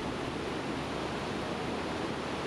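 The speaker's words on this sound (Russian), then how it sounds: "Рейнский водопад с гордостью носит название самого большого по объему низвергающейся воды водопада в Европе" Rhine Falls in Switzerland, Europe's largest waterfall by volume, heard as a dense, unbroken roar of falling water, a steady broadband rush with no gaps and no voices.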